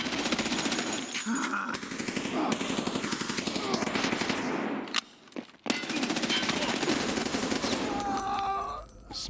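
Rapid automatic gunfire in a shooter video game, continuous dense bursts with a short pause midway before firing resumes, loud and close, with faint talk underneath.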